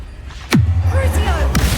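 A Confringo blasting spell going off in Hogwarts Legacy: one sudden whooshing burst with a falling sweep, then a loud low rumble that holds steady for about a second afterward.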